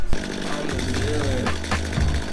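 A chainsaw cuts through a raised log during upkeep of five acres of land, a loud, steady engine drone with a rising and falling whine as the chain bites, close and continuous throughout.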